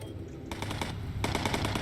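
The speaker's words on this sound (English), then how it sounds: "the pilots or the gunners will shoot at him until he goes down" B-17 bomber gunners in the game Bomber Crew firing machine guns at a fighter, two rapid bursts of clattering shots separated by a brief pause, close and loud.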